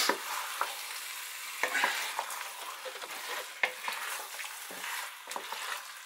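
Chicken and onion for a simple curry sizzle in a hot pan while a spoon stirs them, giving steady close frying hiss broken by sharp scrapes and knocks of the utensil.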